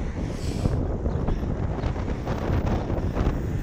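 Strong wind buffets the microphone on a coastal bike trail between Dublin and Howth, a constant roaring gust noise with fluctuating bursts and no voices.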